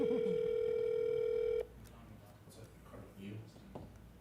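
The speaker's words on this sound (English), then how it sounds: "They don't even answer the phone." A telephone ringback tone on a call to a rental property, one sustained steady tone that cuts off abruptly, followed by a quieter stretch with muffled background sound and faint voices.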